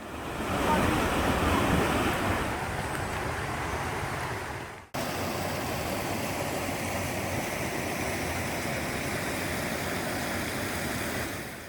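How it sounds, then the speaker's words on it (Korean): A mountain valley stream flows beside a gentle trekking trail in Gyeonggi-do, making a continuous broad rushing roar that briefly cuts out midway and then resumes steadily. "바로 옆으로 시원한 계곡이 있어서 한여름에도 아주 시원하게 갈 수 있는 코스입니다"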